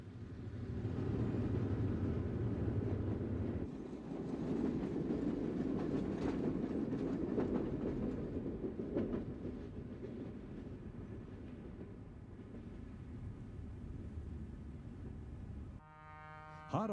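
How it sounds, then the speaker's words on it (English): A Wabash freight train led by a freshly painted E7 passenger locomotive rumbles past at Belleville, Michigan, its steady heavy roar holding throughout, with a horn-like tone near the start and a brief clanking at the end. "The westbound afternoon freight through Belleville, Michigan was led by a freshly painted E7 passenger unit"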